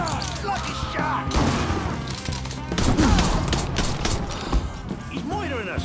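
Rapid bursts of gunfire in the video game Mafia III, with the shots crackling over game music and effects while voices shout across the firefight.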